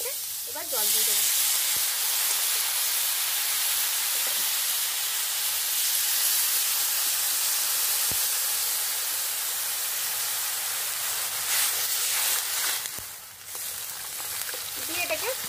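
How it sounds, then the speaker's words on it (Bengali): Water poured into a hot pan of lightly fried amra (hog plum) with salt, for a Bengali poppy-seed amra dish, sends up a loud, steady hiss and sizzle that runs the whole time and swells briefly near the end. "এবার জল দিয়ে দেবো।"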